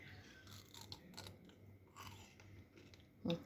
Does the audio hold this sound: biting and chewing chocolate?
yes